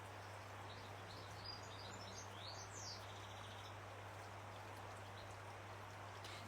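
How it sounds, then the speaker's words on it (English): Birds chirp and sing faintly beside a flowing stream that keeps up a steady, even rush of water throughout, with a low constant hum underneath and no talking. "You hear the birds and you can hear the stream."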